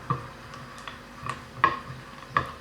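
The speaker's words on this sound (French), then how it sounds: "On mélange bien le chocolat." A spoon stirs melting chocolate in a bowl, giving light, irregular ticks and scrapes against the sides, close and fairly soft, with no voices.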